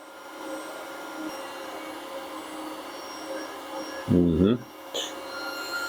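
A Makita-compatible 18V cordless heat gun blows hot air onto a rock with a steady, close fan roar, broken by a short clunk near the end.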